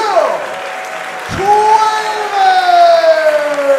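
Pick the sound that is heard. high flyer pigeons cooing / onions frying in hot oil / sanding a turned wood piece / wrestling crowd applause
wrestling crowd applause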